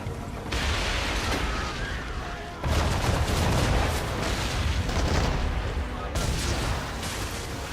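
Ship cannons fire in a naval battle at sea in Assassin's Creed 3, heavy booming volleys breaking over a roaring stormy background, with loud bursts around the middle and near the end and voices mixed in.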